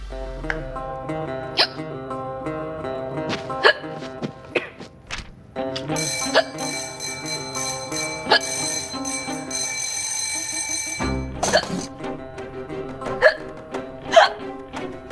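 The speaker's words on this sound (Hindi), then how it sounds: "आपको इतनी हिचकी क्यों आ रही है?" Repeated hiccups from a woman in a Hindi TV comedy scene, sounding as a series of sharp, loud gulping bursts at an uneven rhythm over a bright, bell-like musical background.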